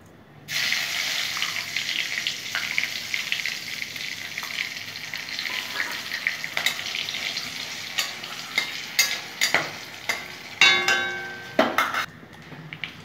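Whole cumin, cardamom, cinnamon, cloves and dried chilli sizzle in hot oil in a pan used to fry pomfret fish. A steady close hiss carries on throughout, broken by crackles and pops that come more often toward the end.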